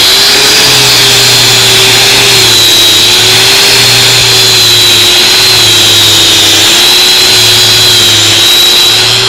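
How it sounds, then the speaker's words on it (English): Power tool sanding and wire brushing old baseball stadium seats, a loud, steady motor whine that holds constant throughout, close by and alone. "We got done all the sanding, all the wire brushing"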